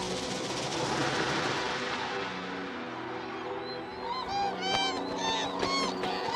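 Male birds trumpet loudly in a winter courtship display, with a dense, honking chorus of many calls that is broad and continuous at first, then separates into distinct nearer honks and yelps.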